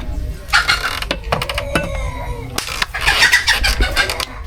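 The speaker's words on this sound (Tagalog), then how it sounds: "ang manok." Chickens clucking and squawking in short, uneven bursts at close range, with a brief engine-like rumble in the background and no speech.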